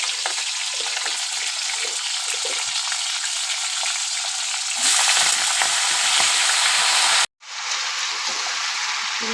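Potatoes, brinjal and Malabar spinach fry in hot oil and are stirred in a pan. A loud, even sizzle runs through, grows briefly louder midway, then stops abruptly for a moment before resuming.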